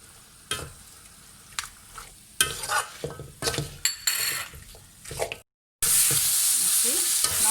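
Chicken stirred in a pan with turmeric and chilli powder for pepper chicken: loud scraping and sizzling strokes of a spoon in bursts, a brief gap, then a steady hot sizzle.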